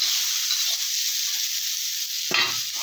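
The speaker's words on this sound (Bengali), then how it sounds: "কড়াইতে শুকনো লঙ্কা দিয়েছি, কাঁঠালের বিচিগুলো দিয়ে ভাজা করছি" Boiled jackfruit seeds and four dried chillies fry in a wok with a steady, close hiss and crackle, a brief scrape of stirring near the end.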